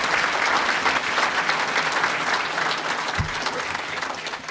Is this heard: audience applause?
yes